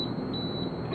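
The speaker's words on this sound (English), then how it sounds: "and then it will give you a little alarm." A steady, thin high-pitched alarm tone from a Trojan UVMax IHS12-D4 UV water treatment system signalling its lamp, held continuously over a broad hum of background noise, faint and unbroken.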